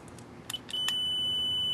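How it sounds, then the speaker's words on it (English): Multimeter set to continuity beeping while testing a fuse from an air conditioner, a few short clicks and chirps and then a sustained high-pitched tone that starts abruptly and holds to the end. "I'm going to put my multimeter on continuity. It's going to beep there."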